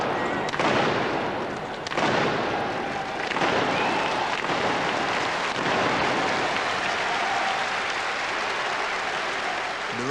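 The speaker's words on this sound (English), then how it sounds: "they prepare to fire their guns for the first 3 rounds" Field guns fire rounds during a naval field gun race in an arena, with Devonport among the competing crews. Several sharp blasts punch through a loud, continuous roar of crowd applause and cheering.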